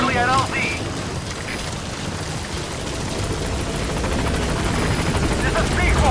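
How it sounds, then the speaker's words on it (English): A support helicopter arriving at a landing zone in the 2015 PC video game Metal Gear Solid V: The Phantom Pain, its steady rotor roar and engine whine growing slightly louder throughout with continuous rumble and some faint voice layered in. "Support helicopter requested."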